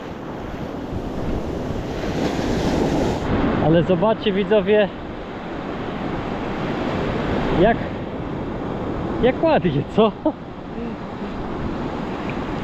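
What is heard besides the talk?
sea waves breaking around person standing in water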